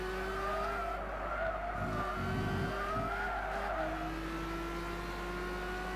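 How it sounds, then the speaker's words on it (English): A race car in Gran Turismo 6 drifts through a corner, its tires squealing in long sustained tones over a constant engine drone, with brief rougher scrubbing midway, steady and close. "That was awesome to drift around there."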